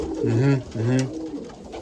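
Pigeons give two soft, low, throaty coos in quick succession, close by, followed by quiet.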